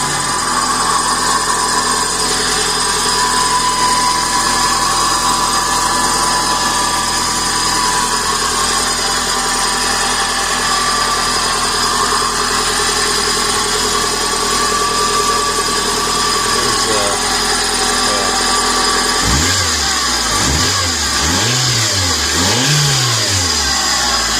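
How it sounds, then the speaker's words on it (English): Geo Metro with a Suzuki engine and an automatic transmission fault runs steadily at a close, even idle, then revs in three quick rising-and-falling bursts near the end, with no talking. "engine runs like a little sweetheart"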